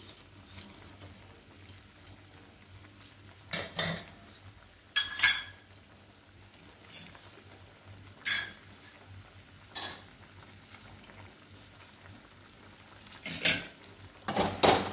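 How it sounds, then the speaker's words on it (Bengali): A spoon stirs tomato and jujube chutney with sugar in a pan, giving soft intermittent scrapes and clinks against the metal over a quiet background, with scattered bursts spaced a few seconds apart. "একটু ঘন ঘন নাড়তে থাকতে হবে, তলাটা যেন কখনোই না লেগে যায়"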